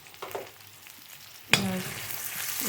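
Dry red chillies and onion hit a hot pan with a sudden loud sizzle partway through, after a quieter stretch of faint clatter, and the frying hiss carries on steadily to the end.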